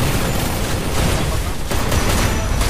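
Sniper gunfire in a mobile shooter video game crackles in a dense, loud barrage of overlapping shots and booms, with no clear gap over the short stretch.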